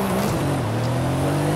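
Mercedes-AMG GT Black Series in Forza Horizon 5 on a drag tune, its engine holding a loud, steady high-revving drone with rising harmonic tones as it launches hard, with no talk over it.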